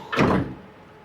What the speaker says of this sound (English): Same way, big sliding door to get inside.